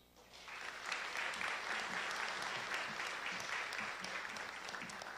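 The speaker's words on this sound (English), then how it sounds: "I would like to ask for one more round of applause for our speaker tonight" Audience applause in a lecture hall at the close of a university inaugural lecture, dense steady clapping that swells in after a brief lull and holds loud throughout without speech.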